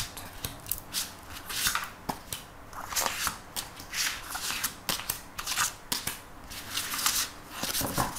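Tarot cards are shuffled for a reading in quick repeated riffles and soft slaps, close and crisp, with short bursts recurring in a steady irregular rhythm and no speech over them.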